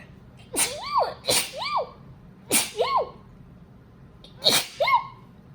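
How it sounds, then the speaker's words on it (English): Four sharp sneezes ring out close by, in two quick pairs, each with a sudden burst and a rising voiced squeal, separated by quiet pauses. "I am going to sneeze this time"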